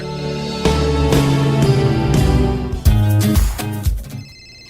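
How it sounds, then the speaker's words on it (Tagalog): Telephone ringing indoors in a repeated series of bright tonal rings, fairly loud and near, fading out at the end with no talk over it. "Oh, si Ayisa maning nanawag"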